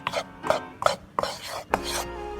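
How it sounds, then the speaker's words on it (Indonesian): Flour being dry-roasted in a pan for chocolate pia filling, heard as a series of five sharp scraping strokes from a spatula against the pan, evenly paced and close. "Terus habis itu kita sangrai dulu tepungnya."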